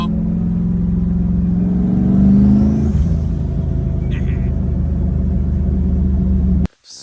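BMW E36 with a turbocharged LS engine swap, driving with a loud, steady engine drone that swells as it revs around the midpoint, then settles into a rougher rumble before cutting off abruptly near the end.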